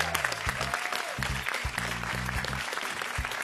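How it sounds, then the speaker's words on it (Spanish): A game-show studio audience gives dense, steady applause that fills the room, with music and a few voice fragments layered over the clapping. "El aplauso gigante para Felipe, la Fran, vamos, Felipe"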